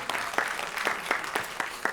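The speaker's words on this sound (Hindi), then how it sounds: "प्लीज जोरदार तालियों के साथ इनका स्वागत कीजिए।" A small audience claps for a stage actor at a theatre performance, fairly soft, even applause with a few sharper claps standing out, alone without talking.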